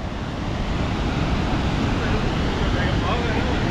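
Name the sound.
roar of the Tibinde Fossen waterfall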